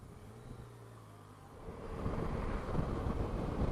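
Strong wind buffets the microphone on a motorbike ride along a coastal road on a windy, rough day, a low roar that swells and grows louder in the second half.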